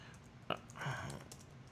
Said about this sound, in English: little keyboard with my big fingers